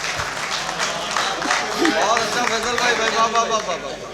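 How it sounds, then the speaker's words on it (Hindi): Scattered applause from a crowd at a mushaira poetry gathering in Lucknow, a soft, steady clatter of clapping mixed with crowd chatter and murmuring voices. "तालियाँ एक बार बजा दीजिए।"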